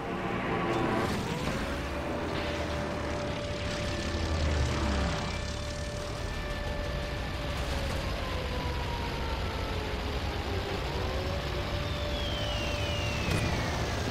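A propeller airplane in the World War I game Toy Soldiers drones steadily throughout, its engine tone holding and sliding in pitch over continuous battlefield noise, with no talking.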